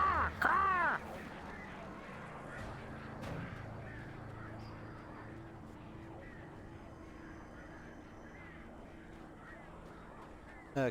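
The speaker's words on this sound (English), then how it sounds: "Oh, I hear crows." Crows cawing in the video game Alan Wake: a few harsh calls up front, then a quieter low ambient drone.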